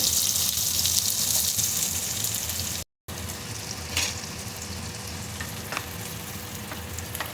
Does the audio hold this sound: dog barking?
no